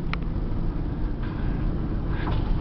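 A Ford F700 stake body truck with a cage and power liftgate and a 5-speed gearbox is driven along, its engine giving a steady, loud, low rumble throughout.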